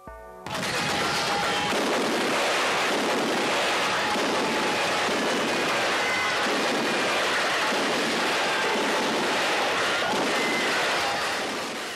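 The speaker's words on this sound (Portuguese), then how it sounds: "Os canhões." Sustained roar of cannon fire from an army attacking a backland settlement, a continuous heavy rumbling barrage that starts abruptly and stays loud throughout, with no voices.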